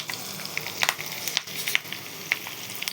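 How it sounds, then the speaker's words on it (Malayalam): Pakoda fritters made with shallots and coriander leaves deep frying in hot oil, a steady crackling sizzle with a few sharp pops and bubbling bursts, close and continuous with no talking. "നമുക്ക് എണ്ണയിൽ നിന്ന് വാങ്ങാം, ബാക്കിയും കൂടി ചുട്ടെടുക്കാം."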